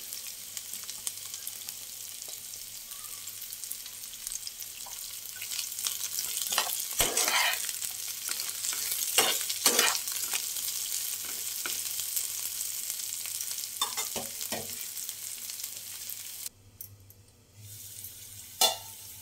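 Chopped capsicum sizzles with lightly fried onions in a pan as a spatula stirs and scrapes in irregular bursts; the frying hiss runs steadily, then drops away near the end, with no talking.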